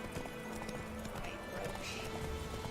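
Hooves of Roach, a horse in The Witcher 3, clip-clop at a steady gallop throughout, close and continuous over game ambience, with a brief whinny and a little background speech.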